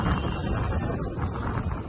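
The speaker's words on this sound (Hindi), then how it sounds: "बड़ी तेज हवा चल रही है" Strong wind blowing outdoors in Lahore, a steady, loud low rumble buffeting the microphone for the whole stretch with no clear voices.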